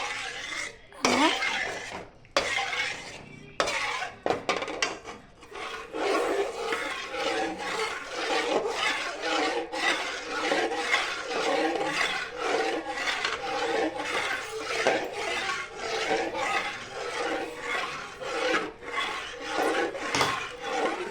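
A metal ladle scrapes and stirs food in a kadai, with steady rasping, clattering strokes repeating throughout at close range and moderate loudness.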